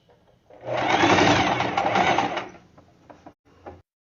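A domestic sewing machine stitches along the edge of a fabric diaper holder with baby-wipe pocket, a loud, steady whirring run of about two seconds that slows, then a few short bursts and clicks.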